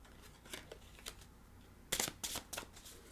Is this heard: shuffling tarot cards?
yes